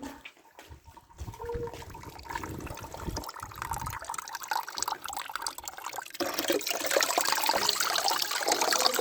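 Tap water runs and splashes while spring onion and mint are washed, a continuous trickling and gurgling close by that grows fuller toward the end.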